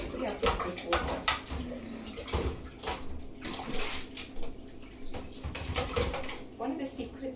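Dishes being washed up in hot water in a kitchen sink: steady splashing and sloshing with frequent clinks and knocks of crockery, close and fairly loud for several seconds.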